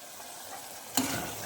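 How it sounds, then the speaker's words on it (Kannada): Tomatoes fry in oil in a pan for drumstick gojju, giving a soft steady sizzle, and one brief scrape of a spoon stirring them about halfway through. "ಚೆನ್ನಾಗಿ ಫ್ರೈ ಆಗಬೇಕು ಸಾಫ್ಟ್ ಆಗಬೇಕು ಟೊಮೊಟೊ"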